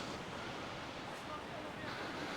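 Sea waves at Canasvieiras beach in Florianópolis, Brazil, make a steady, rushing surf wash mixed with light wind noise on the microphone, continuous and fairly distant.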